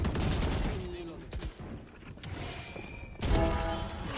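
Rapid automatic gunfire bursts from the tactical shooter Valorant, loud and dense throughout with a brief dip midway, mixed with game effects and faint voices underneath.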